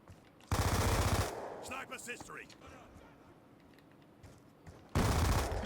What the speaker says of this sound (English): I haven't used the MP7 without a silencer for a very, very long time.